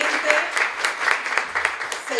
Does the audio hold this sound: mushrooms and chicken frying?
no